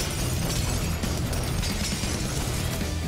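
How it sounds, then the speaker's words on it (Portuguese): Atomic bomb blast in the arcade game Octogeddon, a continuous loud roaring rumble of explosion filling the whole moment without letup. "Bomba atômica vindo"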